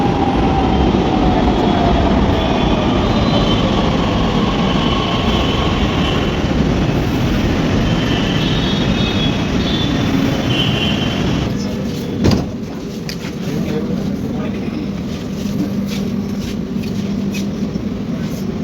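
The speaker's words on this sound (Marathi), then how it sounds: "आपली ट्रेन आलेली मेट्रो" A Pune metro train hums and rumbles steadily throughout, with a loud broadband roar that eases slightly partway through, marked by a brief clunk.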